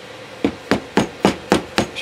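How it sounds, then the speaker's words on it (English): A hammer strikes a part being fitted onto a Ford 3G alternator during a rebuild, with six sharp, evenly spaced metallic taps, close and clear, and no talk. "I could probably just pound it or hit it with a hammer"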